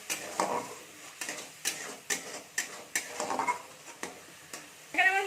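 Spice paste loosened with water, stirred and fried in a pan for a poppy-seed rohu curry, about ten distinct scraping strokes at an even rhythm over a light sizzle, close and alone.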